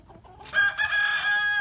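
Chickens clucking inside a coop or aviary holding late-hatched young hens: a loud, drawn-out harmonic call rises after a brief quiet start and carries on steadily with a few pitch wobbles, close by.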